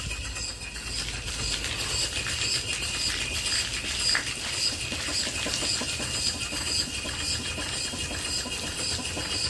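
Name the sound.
antique Worthington steam boiler feed pump running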